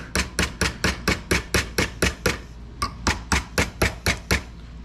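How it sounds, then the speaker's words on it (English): A small hammer taps lightly on a bent latch from an antique mortise door lock, a run of about eighteen quick, evenly spaced metallic taps with one brief pause partway through, close and clear, with no voices. "Just a little tappy tap will bring it straight usually."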